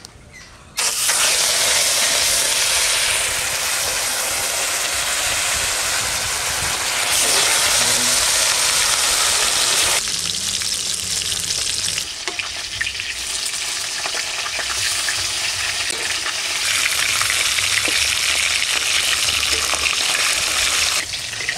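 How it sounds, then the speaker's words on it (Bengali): Pieces of a large Katla fish frying in hot oil in a village kitchen, a loud, continuous, close-up sizzle and crackle that surges in places and holds strong throughout with no pause. "তেল গরম হয়ে গেছে, এখন মাছটা ভেজে নেব।"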